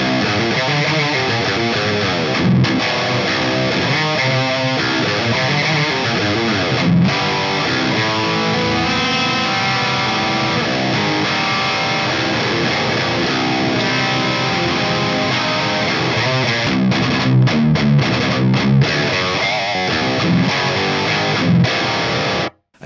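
Electric guitar through a SUBZERO 93 high-gain amplifier, heavily distorted riffing with dense chugging rhythms and brief choked stops, loud and continuous for over twenty seconds with no talking.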